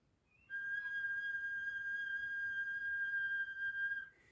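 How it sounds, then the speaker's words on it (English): Soft flute whisper tones played with a completely relaxed embouchure: one thin, pure, whistle-like note held steadily for about three and a half seconds, quiet and alone. "This exercise is a preparation for playing whisper sounds."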